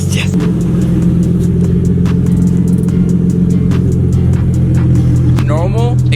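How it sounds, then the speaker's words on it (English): A Nissan's exhaust, fitted with a cheap DIY exhaust modification, rumbles at a steady, loud idle close by with a deep drone, while a voice talks briefly over it. "We should hear a regular, normal 21st century exhaust sound."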